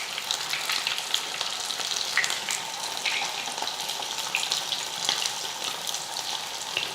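Steady crackling sizzle of fish frying in hot oil, with scattered sharp pops and spits throughout; close and continuous, no voices.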